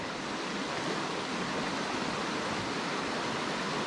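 Steady broadband rush of a flowing stream, a tributary of Robbins Branch in the Birkhead Mountains of North Carolina, continuous and even without pauses, close and fairly loud, no voices.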